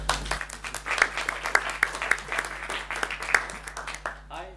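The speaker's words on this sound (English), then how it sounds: "a round of applause." Audience applause at a software conference talk, a sparse, uneven clapping from a modest crowd with distinct individual claps, mixed with some voices.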